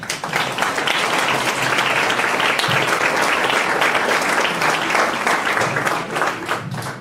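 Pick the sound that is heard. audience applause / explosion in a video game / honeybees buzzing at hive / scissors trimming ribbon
audience applause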